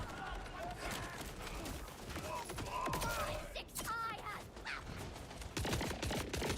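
Gunfire bursts from weapons in the Borderlands 4 video game, with sharp shots scattered through the clip and heavier blasts near the end, heard under continuous talking.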